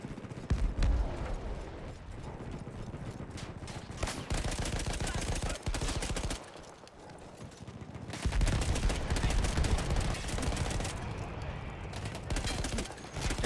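Dense bursts of rapid gunfire and explosions fill a World War I battle in Battlefield 1, loud and continuous with short lulls, with a voice talking over the shooting.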